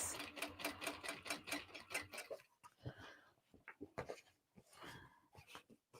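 A sewing machine top stitches a fabric tote bag, its rapid needle chatter running steadily for about two seconds before giving way to scattered stitching bursts and handling noises, close and fairly loud.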